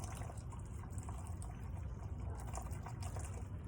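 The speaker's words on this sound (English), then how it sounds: "Now when you pour the plaster" Liquid plaster poured over a ceramic tile into a mold, a steady close pouring and trickling wash that runs continuously without pause, with no voices.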